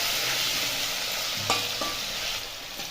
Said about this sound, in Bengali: এরপর এটাকে আমি ভাজা ভাজা করে নেবো